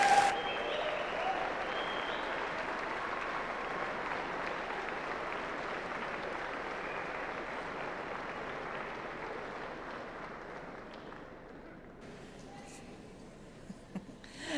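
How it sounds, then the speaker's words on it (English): Large hall crowd at a Cardiff University graduation ceremony gives a long, dense round of applause and cheering that thins and fades out near the end, with a few scattered claps lingering. "say a very special and public thank you to all of them by giving them a huge cheer and round of applause"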